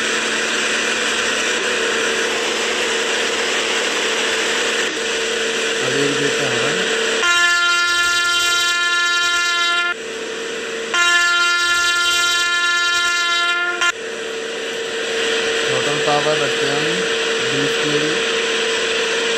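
A WAP-7 electric locomotive hauls blue ICF coaches between New Delhi and Hazrat Nizamuddin. It gives a steady running rumble, and its horn sounds in two long, loud, tonal blasts in the middle of the run.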